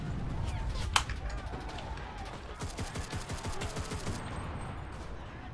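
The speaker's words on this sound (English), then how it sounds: "Let's actually use a submachine gun." Submachine gun fire in the WWII shooter Enlisted, with a sharp shot and then rapid bursts of automatic fire amid battle noise, while a voice talks faintly underneath.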